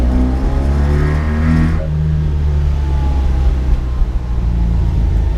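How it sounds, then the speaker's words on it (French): Loud car engines roar and rev hard, one pitch climbing then dropping away as another engine drones on steadily, close and continuous. "ici il y a des moteurs, qui roulent à fond"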